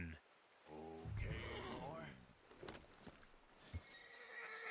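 A horse in the Red Dead Redemption 2 video game gives a loud, wavering whinny, with hoof clatter and other game noise following.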